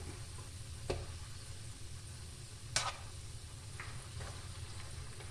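Chili powder and spices fry in hot oil with mustard seeds, garlic, ginger and curry leaves, a quiet continuous sizzle broken by a couple of sharp stirring clicks, no talking.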